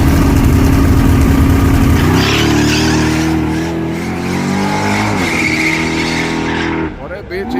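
An 800-horsepower ZL1 Camaro's engine roars and climbs as it accelerates hard at a drag strip, with a loud, gritty rev that fades slightly toward the end.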